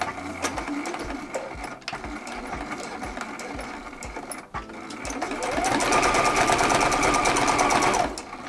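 Close sewing machine stitching a tote bag seam made from scraps at a stitch length of about 3 millimeters, with a steady mechanical rhythm that briefly stops for a back stitch and then speeds up into a louder, faster run.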